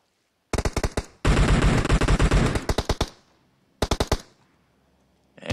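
Rapid automatic gunfire in a video game battle, several loud close bursts and one long sustained volley, separated by brief silences, with no talking.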